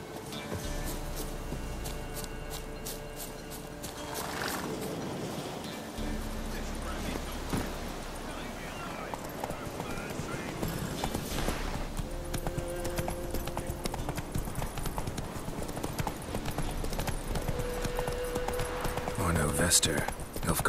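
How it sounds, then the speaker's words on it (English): Horse hooves clip-clop steadily in The Witcher 3, a continuous near trot running under voices and a dense layer of game sound throughout. "Horses!"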